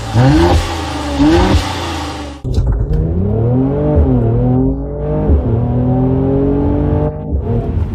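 A 2021 Mercedes C43 AMG on Cup 2C tires accelerates hard in a straight line, its engine climbing loud and close through several rising upshifts, with no talking.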